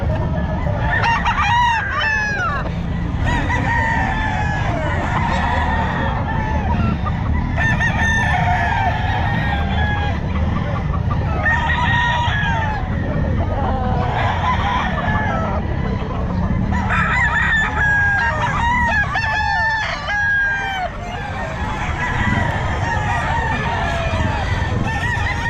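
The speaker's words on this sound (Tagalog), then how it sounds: "Bull stag ito po, Joey." A bull stag rooster crows repeatedly at a busy Bocaue pet market, each cock-a-doodle-doo standing out clearly over constant crowd noise, clucking and other fowl in the background.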